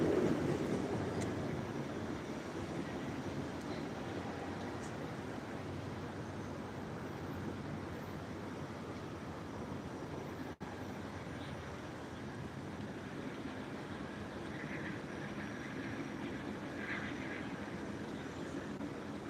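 A VIA passenger train passes on a Toronto walk, a steady broad rumble that starts loudest and holds at a low, even level for a long stretch, heard from outdoors at some distance.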